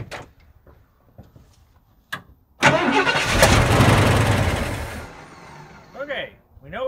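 A big block Ford engine cranks on brake cleaner, then fires and runs loudly and roughly for about two seconds before dying away, with speech before and after.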